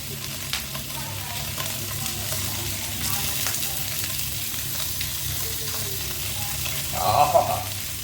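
Fish frying in a pan with crushed chilli and salt makes a constant close sizzle and crackle, briefly swelling louder near the end, with no voices.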